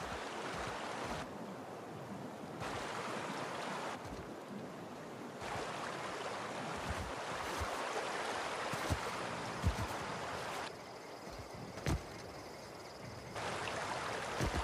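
Rushing water from a river in the video game The Outer Worlds, heard close by as a broad, steady wash with no voices. It is broken by occasional abrupt drops and returns in level, plus a few faint splashy transients.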